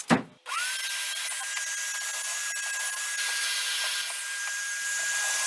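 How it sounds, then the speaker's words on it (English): New power drill boring pocket holes into wood for a modular shop cabinet: a brief knock, then a steady high-pitched motor whine with grinding bit noise, close and continuous, no talking. "we have our pocket holes drilled"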